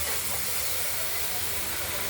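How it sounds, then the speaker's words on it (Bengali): Potato and green banana pieces dropped into hot spiced oil for a rohu fish curry give off a loud, continuous, hissing sizzle that fills the whole short stretch. "মশলা ভাজা হয়ে গেছে, আলু কাঁচকলা দিয়ে দিলাম।"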